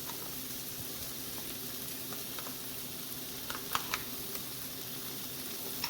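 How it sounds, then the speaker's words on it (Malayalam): Shrimp roast frying in a pan with coconut oil gives a faint, steady sizzle, with a few soft scrapes and taps from stirring. "നമുക്ക് എല്ലാം കൂടി നന്നായി ഒന്ന് ഇളക്കി യോജിപ്പിക്കാം"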